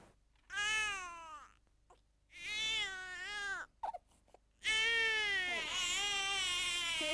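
A baby gives three drawn-out wailing 'ow'-like cries, each rising and falling, close and clear with brief silent gaps between, the last one longer and louder.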